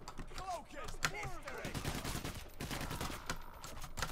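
Rapid gunfire in Payday The Heist, set in Cleveland public housing, with bursts of shots and clattering impacts crowding a busy, continuous game mix throughout.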